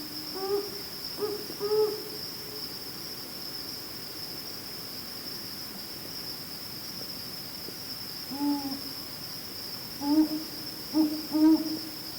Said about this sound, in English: It's a bird with a very quiet voice, very, very quiet.